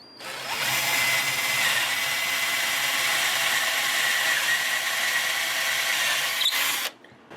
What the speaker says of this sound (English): it really sucks to drill your holes after you have finish on your guitar